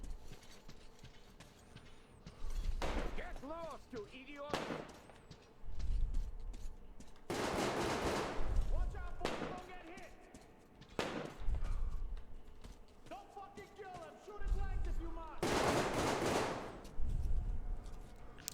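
Gunfire echoing through underground corridors in the Metro Exodus video game, sharp repeated bursts in separate clusters, some loud and close, with quieter gaps between.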